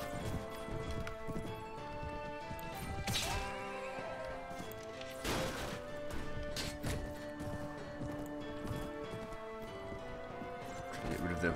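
Horse hooves clip-clop and whinny amid a medieval cavalry battle in Mount & Blade Warband, layered over dense game music and clashing combat noise, with bursts of impact around the middle.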